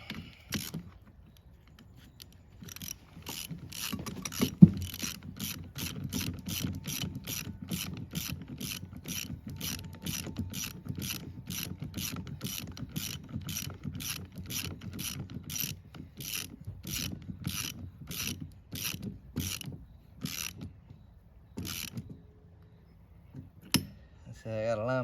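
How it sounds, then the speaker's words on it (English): A ratchet wrench clicks rapidly and evenly while bolts are tightened on an FMC PG-210 bush hog, close and crisp, running in long steady runs with short pauses and a low voice murmuring underneath. "Finally got all the bolts pushed through now, so let's see if I can get these buggers tightened up."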